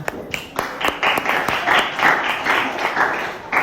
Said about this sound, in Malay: bagi tepukan